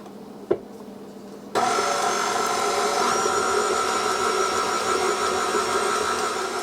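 An electric mixer switches on after a brief knock and then runs loudly and steadily, whirring continuously as it blends cookie dough for Russian tea cookies.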